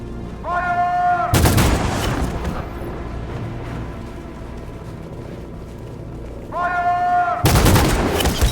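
Two loud gunfire volleys in the game Detroit Become Human, each a sharp blast of many rifles fired at once, following a shouted command; a heavy rumbling background fills the gap between them.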